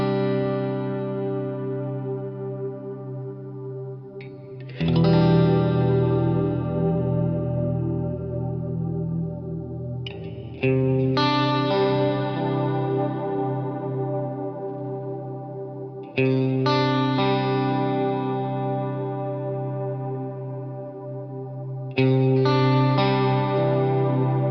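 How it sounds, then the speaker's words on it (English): Electric guitar chords through a Cornerstone NUCLEO pedal with vintage-mode modulation, four sustained strummed chords each ringing out and swirling with warm chorus-like wavering, played alone. "In vintage mode, the modulation sounds more like this."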